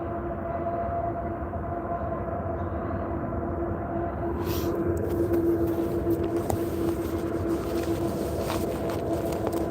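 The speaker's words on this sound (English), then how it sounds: "Here's a train." A train rumbles past near a graveyard at night. It sounds as a steady, fairly loud mechanical drone with a low hum, growing slightly busier and rattling midway through as it passes.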